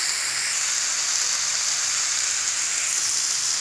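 Boneless fish pieces fry in a pan, giving a steady, continuous hiss of oil with a bright, even sizzle that stays at one level throughout. No one talks.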